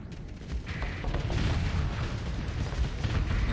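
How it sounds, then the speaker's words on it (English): Torpedo and weapons fire during space combat in the video game Starsector, a continuous rumbling barrage of booms and mechanical clatter building in the first half second and staying loud. "Big torpedoes going in there."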